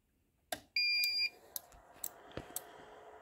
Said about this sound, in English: You're going to hear some weird noises from your printer.